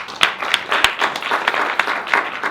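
Audience applause at a community discussion on how Cuba survived peak oil, a lively patter of clapping with sharp individual claps standing out, fairly close and continuous.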